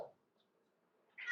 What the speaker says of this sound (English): Oh my gosh, that cat is really crying today. He wants to go outside.